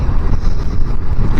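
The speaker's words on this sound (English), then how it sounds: "Very windy though." Heavy wind buffeting a microphone during a motorbike ride on a sunny but very windy day, a loud, continuous low roar and rumble filling the whole clip.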